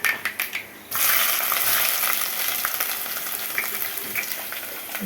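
Ginger and garlic hit hot oil in a home kitchen pan with a few sharp clatters, then a loud, steady sizzle takes over and holds close and continuous, with no voices.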